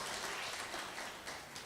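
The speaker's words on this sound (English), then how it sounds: "Round of applause, please." Quiet, dense applause from a conference audience welcoming a speaker at a public health meeting, continuous clapping fading slightly toward the end.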